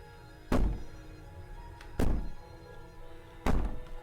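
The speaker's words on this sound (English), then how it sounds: "Bang on the door all you want." Three heavy, evenly spaced bangs on a door in the video game Slay the Princess, each a loud booming thud with a short ringing decay, landing about every one and a half seconds over a quiet, tense background.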